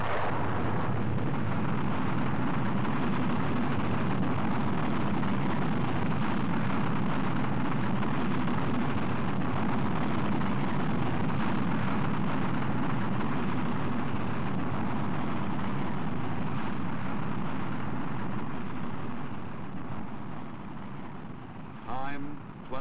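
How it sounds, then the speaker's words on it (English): A Jupiter C rocket lifting off with Explorer at Cape Canaveral, Florida in 1958 gives a loud, continuous broadband roar from its engine. The roar holds steady for about twenty seconds and eases slightly at the end. "Firing command. Jupiter C is coming to life."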